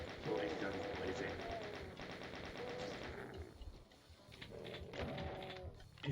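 Rapid gunfire from a Doom-style first-person shooter, played on Ultra-Violence in the TNT mapset, rattles in dense bursts over the first few seconds, drops away, then returns in another loud stretch near the end.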